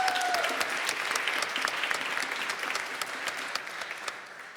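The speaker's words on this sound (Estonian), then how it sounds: "Igatahes neile ka suur aplaus." An audience at a world music camp's final concert applauds warmly, dense steady clapping that gradually tapers off.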